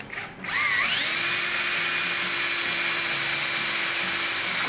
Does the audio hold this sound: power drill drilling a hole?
yes